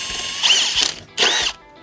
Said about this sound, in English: Then it's just tightening things down fully and make sure you're level.